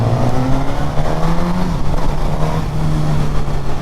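A Suzuki GSX-S1000 motorcycle accelerating on a road ride, its loud, continuous engine drone stepping in pitch as it upshifts through the gears with a quick shifter, heard close and alone without speech.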